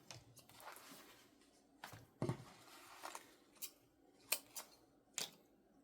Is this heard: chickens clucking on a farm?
no